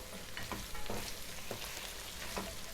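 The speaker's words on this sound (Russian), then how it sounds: "Здесь я уже разогрела сковороду для борща зажарку делать" Onion and carrots fry in a heated pan for borscht, giving a steady close sizzle with soft crackles and occasional stirring scrapes, with no talk.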